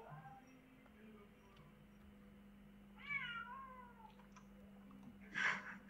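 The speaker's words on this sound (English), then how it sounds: "You hear a cat out of nowhere?" A cat meows at a small pond in the open, a few short falling cries near the middle and a sharper call near the end, close by and fairly clear over a steady low hum.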